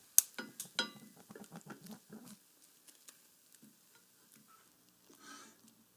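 Four beaten eggs setting in a hot pan for an omelet, soft sizzling with a few sharp spatula scrapes and stirs early on, then fading to quiet faint crackle.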